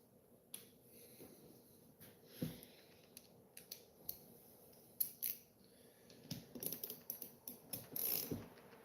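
Clicks and ratcheting from a torque wrench tightening alternator cover bolts on a Honda CT90 motorcycle, a quiet, close series of short mechanical clicks in irregular bursts with brief pauses between.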